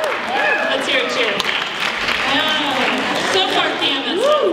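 High school students in a crowd cheering and applauding, loud continuous clapping mixed with overlapping shouts and whoops close by, sustained for several seconds.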